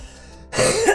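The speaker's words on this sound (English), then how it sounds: "I was gonna cough" A single close, sharp throat-clearing cough bursting out in a quiet room after a brief pause, loud and short.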